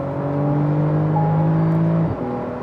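Car engine pulling hard under full throttle with a turbo pass-button boost engaged, a loud steady whirring drone that holds level for about two seconds, then drops off sharply as the throttle lifts.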